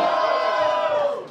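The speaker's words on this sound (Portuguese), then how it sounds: "Quem acha que o Portuga foi mais criativo no segundo round e faz barulho?" A live crowd at a Brazilian freestyle rap battle in Londrina erupts in loud, sustained cheering and shouting to vote for a competitor, a dense wall of voices close by that tapers off slightly at the end.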